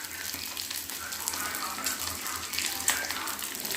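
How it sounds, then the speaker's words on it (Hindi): Eggs frying in oil in a home pan, a steady bright crackling sizzle with soft scraping as they are stirred, moderately close and continuous. "अंडे का फ्राई हो रहा है अभी।"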